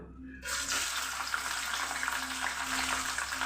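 Jackfruit pieces for chakka upperi chips sizzle in hot oil, a steady, dense frying hiss that starts abruptly and continues close and loud with no voices.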